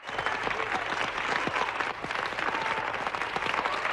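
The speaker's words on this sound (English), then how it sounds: "There's a cheer in this room." A room full of people bursts into cheering and sustained applause at the Apollo Eagle moon landing, dense clapping and shouts filling the space steadily throughout.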